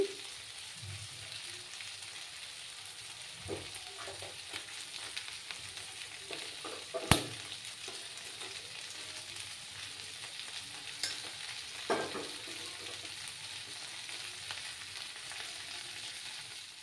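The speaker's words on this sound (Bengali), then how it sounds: "একটু সময় এটাকে কষতে দেবো আমি।" Spices sizzle and fry steadily in hot oil in a pan for a Bengali katla fish curry with beans, potato and tomato, with a few louder clinks of stirring; no one speaks.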